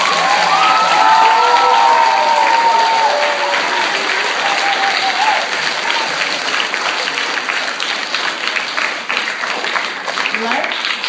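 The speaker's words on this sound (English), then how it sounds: "let's give one big round of applause for this." An audience applauds loudly and continuously in a hall, dense clapping from many hands with a voice talking over it early on before the applause settles into a steady roar.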